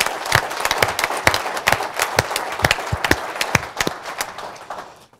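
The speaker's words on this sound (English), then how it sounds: "just another round of applause for them for helping make this a reality" A conference audience applauds through a round of clapping, steady and fairly close, with sharp individual claps standing out before it tapers and fades near the end.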